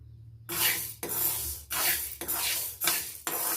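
Green gram (moong) dry roasting in a pan, scraped and stirred in bursts of rasping scratches separated by brief pauses, close and alone.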